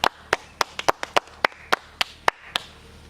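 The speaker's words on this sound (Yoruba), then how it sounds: "Ẹ pàtẹ́wọ́ fún un." A small audience claps in scattered, sharp single claps, about a dozen distinct hand claps spread irregularly over three seconds, close and fairly clear, with no voices heard.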